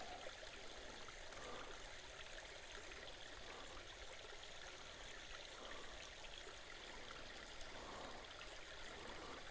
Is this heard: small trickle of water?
yes